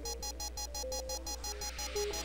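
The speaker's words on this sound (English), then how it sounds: "There's an emergency alarm going off in Alex's apartment." An emergency alarm in the FMV video game Double Switch rings in a rapid, steady mechanical pulse with a tonal beep pattern over it, continuous and fairly faint.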